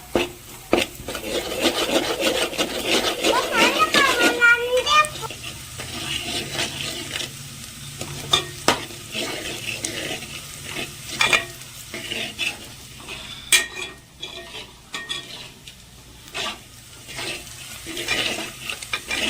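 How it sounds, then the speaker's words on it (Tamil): Crab gravy masala is sautéed on a low flame, a spoon scraping and rubbing across the pan over a soft sizzle, with irregular stirring strokes throughout and no voices. "இப்போ வந்து இது ஒரு பதத்துக்கு வதக்கிடணும்."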